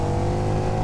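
A KTM 1390 Super Duke motorcycle accelerates hard, a loud, close, continuous engine roar with no voices, cut off after less than a second.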